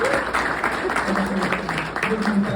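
Audience applause at a business event for a manufacturing cluster, clapping rising under a speaker's voice that carries over it for the short stretch.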